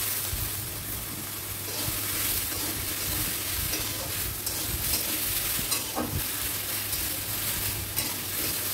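A dense, continuous sizzle comes from leafy greens frying in a pan for a vegetarian Bengali dish, with faint stirring and scraping running under the steady hiss.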